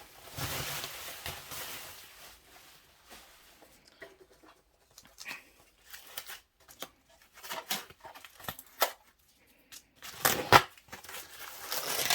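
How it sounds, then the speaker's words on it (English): Wrapping material crinkles, tears and rustles in irregular close bursts with quiet gaps between, growing louder toward the end. "let's unwrap this"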